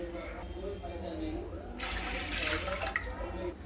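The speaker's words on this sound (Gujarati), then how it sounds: "એમાં હું 2 ગ્લાસ બાફવા માટે પાણી નાખી રહી છું" Two glasses of water poured into a pressure cooker holding urad dal: a brief, close splashing gush of about a second over a low background hum.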